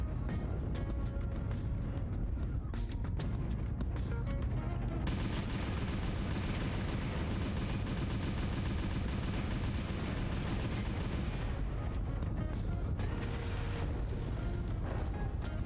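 Artillery strike in Mechwarrior Online: heavy, rapid booming explosions and gunfire pound continuously, building into a dense, loud barrage in the middle before thinning out again.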